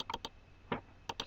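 Computer keyboard keys pressed for a Ctrl+M shortcut in Adobe Photoshop 7.0, with a handful of sharp, close clicks in small clusters and short gaps, and no talking.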